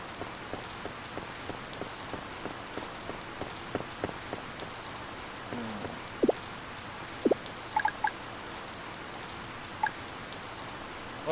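Rain in the farming game Harvest Moon patters steadily on a surface, with regularly spaced drip-like ticks and a few sharper drops over the hiss, and no voices.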